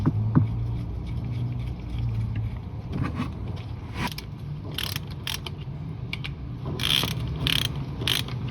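A hand ratchet wrench clicks in short bursts while tightening the oil pickup tube bolts on a 1988-1992 Toyota Corolla 4A-F engine, crisp close metallic ratcheting separated by pauses and light handling noise.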